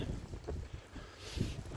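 Gusty wind in Ottawa buffets the microphone in a steady low rumble, with brief surges of louder blustering and no voices.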